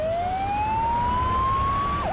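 A single electronic ambulance siren tone sweeps slowly upward and holds steady, then dips briefly at the end, heard clearly over a low background rumble.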